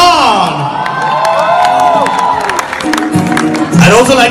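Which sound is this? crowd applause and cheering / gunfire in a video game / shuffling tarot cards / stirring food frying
crowd applause and cheering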